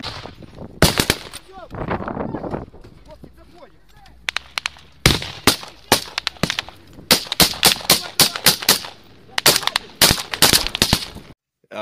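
Rifle gunfire in a firefight, loud sharp cracks in quick bursts and single shots, some spaced and others rapid, with brief talking between the early shots.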